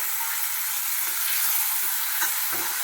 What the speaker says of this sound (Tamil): மிளகாய் பொரிஞ்சோடனே தக்காளியை போட்டுட்டேன்.